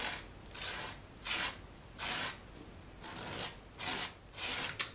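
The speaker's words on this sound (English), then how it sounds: "I'm going to use my palette knife to just apply the embossing paste to the stencil" A palette knife spreading embossing paste across a stencil makes soft, faint scraping strokes, about eight rhythmic back-and-forth passes, close and quiet with no talk.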